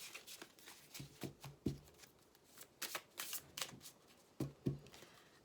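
Oracle cards being shuffled by hand, a soft close series of riffling and sliding bursts with small snaps and taps, quiet and alone.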